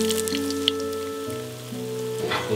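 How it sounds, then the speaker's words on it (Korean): Doughnut dough fries in hot oil with a steady soft crackling sizzle, heard under sustained background music. "이제 온도가 오른 기름에 튀기기만 하면 됩니다."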